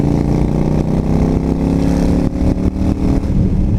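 A Yamaha XVS 1300 Stryker motorcycle's big V-twin engine rumbles loud and close, a steady throbbing exhaust with slight throttle surges and no talking.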